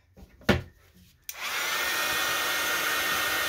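A hair dryer switches on with a sharp click after a couple of handling knocks, then blows a loud, steady airy whoosh over a cereal box junk journal cover.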